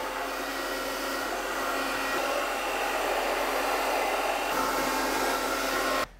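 A hair dryer blows close and loud on scrunched, styled hair with jelly in it, a steady whooshing drone that shifts slightly in tone partway through before cutting off at the end.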